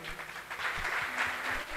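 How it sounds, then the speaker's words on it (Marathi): A crowd claps in tribute to Rajesh Khanna at a birthday song gathering for Dr. Rasal, a soft, fairly distant wash of many hands, swelling slightly midway and holding steady with no talking. "राजेश खन्नाच्या नावाने आपण टाळ्या वाजूया"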